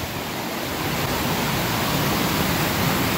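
Steady rushing water pours over a small man-made waterfall by a trail bridge at Chantry Flats, a constant broadband wash that stays even and fairly close throughout, with no voices.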